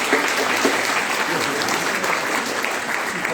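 An audience at an Uyghur gathering in Istanbul breaks into applause, a loud, steady crowd clapping that carries evenly through the few seconds with a faint voice underneath.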